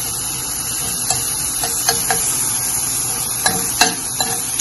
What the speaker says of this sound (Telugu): నానబెట్టిన చింతపండు గుజ్జు కాబట్టి ఒకసారి నూనెలో దీన్ని కూడా ఇలా ఉడికించినట్టు చేద్దాం